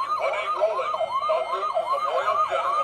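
A circuit-bent toy ambulance emits a warbling electronic siren, rapid rising-and-falling sweeps that repeat quickly and unevenly, close and fairly loud, with glitchy shifts in pitch.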